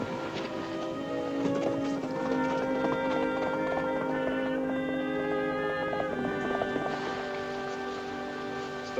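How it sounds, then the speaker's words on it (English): Steady clip-clop of horse hooves on a road under a dense wash of orchestral music from a 1950 western film, with a faint patter resembling rain. "I think I hear a horse on the road."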